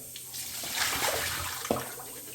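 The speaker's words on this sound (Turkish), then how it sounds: "Patates süzeceğim" Potatoes and water pour through a wire kitchen strainer in a faint, close splashing trickle that rises in the middle, with a brief clink near the end and no talk.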